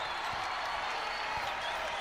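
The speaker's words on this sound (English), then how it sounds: "you gotta love the Arizona faithful just cheering on everything positive that has happened for these Wildcats today" Arizona Wildcats fans cheering in an arena during a Pac-12 women's college basketball game, a steady broad wash of crowd noise and applause held at an even level throughout.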